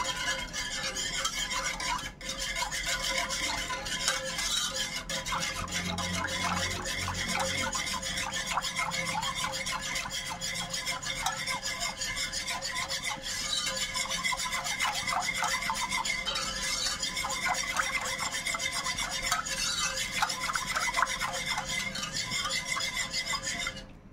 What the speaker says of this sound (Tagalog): Haluin mabuti hanggang sa matunaw ang asukal at ang gulaman.